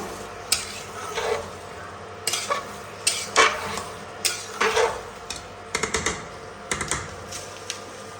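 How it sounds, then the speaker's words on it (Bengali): Meat being stirred and sautéed with spices such as mace in a pot for meat pulao, with intermittent scraping and clattering stirring strokes over a soft sizzle, close and moderately loud, no talking. "নেড়ে দেব। মাংসটার সঙ্গে কষে নেব।"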